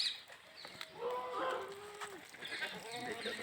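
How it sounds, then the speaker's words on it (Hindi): Goats bleat intermittently in a herd with a buck goat moving among them, the calls moderately close over outdoor background noise and low voices. "बकरा छोड़ा है और वो धीरे धीरे करके सभी बकरियों की पहचान कर रहा है"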